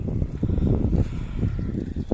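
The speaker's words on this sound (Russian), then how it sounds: "сейчас лодку перецепим поудобнее сбоку, моторчик, и потихонечку ту-ту-ту-ту-ту-ту пойдем" A small motorboat with an outboard motor runs on a river, giving a low, steady rumble mixed with gusty wind buffeting the microphone, with no talk.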